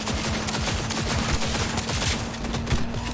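Gunfire aimed at a bike in Cyberpunk 2077 rattles out in dense, rapid, continuous bursts, loud and close throughout with no talking.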